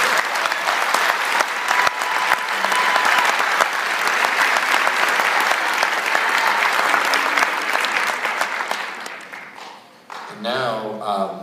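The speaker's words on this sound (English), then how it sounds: "Will you please give them a round of applause?" Sustained, loud audience applause fills a school auditorium after an 8th grade middle school winter concert, steady clapping from a large crowd that fades near the end before a voice briefly speaks.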